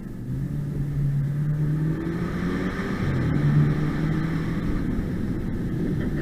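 A BMW 328i sleeper with full bolt-ons accelerates, its engine note climbing in pitch through the revs with an intake sucking sound. It holds close and loud, and rises again after a brief dip.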